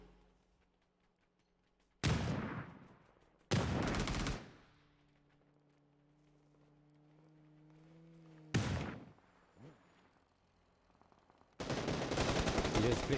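Gunfire in the battle royale game PUBG during a competitive league match: a few sharp, loud bursts of shots separated by quieter stretches with a sustained tonal hum, ending in a dense volley.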